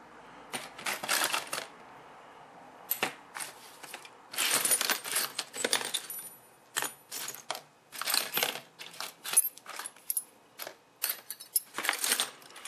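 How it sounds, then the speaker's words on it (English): Handfuls of metal chassis bolts and small hardware from old electronic parts rattle and clink in bursts, sharp jangling clusters with short quiet gaps, close and fairly loud. "Cool, there's a lot of these chassis bolts."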